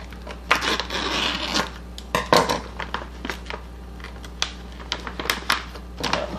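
A fresh bag of quinoa being cut open, with sharp close snips and crinkly plastic rustling in quick irregular bursts.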